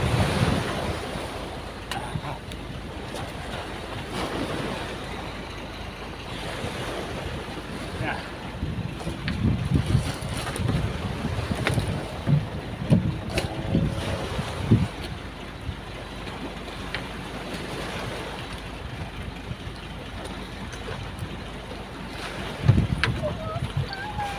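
Strong ocean waves wash and slap around a small fishing boat amid gusty wind buffeting the microphone, with irregular low thumps of water against the hull for over twenty seconds.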